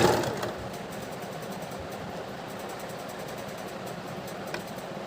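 Sewing machine running steadily while attaching a blouse lining to the main fabric with a narrow seam, a continuous low whirring hum at moderate level with no speech.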